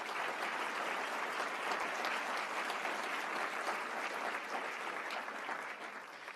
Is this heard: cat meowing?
no